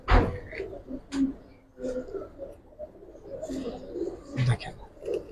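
A Giribaz-type pigeon, an old-style Sapchil bird among silver Giribaz and coloured pigeons, coos in short low bursts nearby, interrupted by a man's speech.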